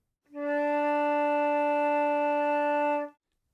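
Flute sounding D natural in the first octave: a single steady, full low note held for about three seconds, close and alone, with a soft onset and release.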